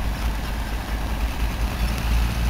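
A tractor engine idles at a tractor pulling contest, a steady low rumble held close and even throughout with no voices over it.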